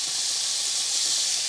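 Garlic hitting hot olive oil in a pan, a loud continuous hiss that holds steady without a break for a moment and is heard alone.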